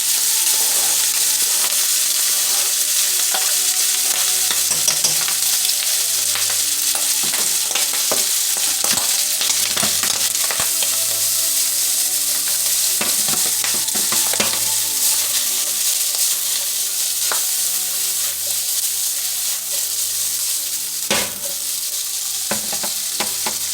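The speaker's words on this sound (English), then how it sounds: "So I'm going to let that brown just a little bit, that fat." Diced ham hock fat browning in a pan, a continuous close sizzle with scattered crackles and spatula scrapes, no voices.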